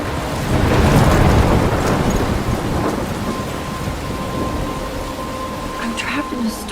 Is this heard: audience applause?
no